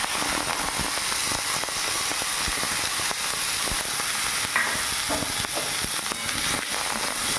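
Rice grains tipped into hot ghee with bay leaves and cardamom for kheer sizzle and crackle steadily, with small stirring scrapes and pops, close and fairly loud with no talking.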